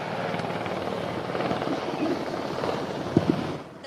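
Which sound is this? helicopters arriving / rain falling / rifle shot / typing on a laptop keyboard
helicopters arriving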